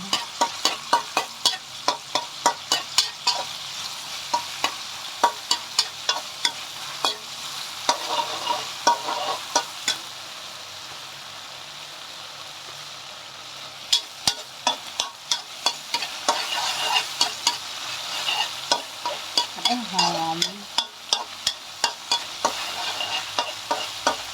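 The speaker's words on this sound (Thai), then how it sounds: "แล้วเราก็ผัดเต้าเจี้ยวกับกระเทียมให้หอม" Fermented soybean paste and garlic are stir-fried in a home kitchen, with a steady sizzle under repeated quick scrapes of the spatula in an irregular rhythm throughout, close and clear, with no talking.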